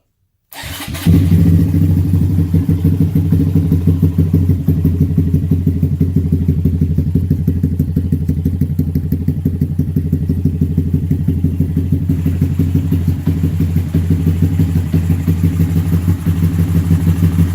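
A Honda Grom motorcycle starts cold and settles into a steady, loud, close idle, its single-cylinder engine chugging rhythmically with no voices for the rest of the clip.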